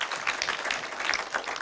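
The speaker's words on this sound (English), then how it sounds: "Let's show our appreciations to Professor Sarundi Alesena by a strong clap of our hands." An international conference audience applauding a professor after a talk, a brief, moderately distant patter of many hands clapping in a hall.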